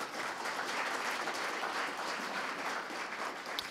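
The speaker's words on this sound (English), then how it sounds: "Can I have a round of applause for Sharon?" A crowd at the grand opening of the Community Archives of Belleville and Hastings County applauds for Sharon, steady, even clapping from many people that sounds a little distant and stays constant throughout with no talking.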